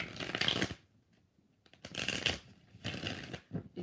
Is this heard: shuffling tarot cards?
yes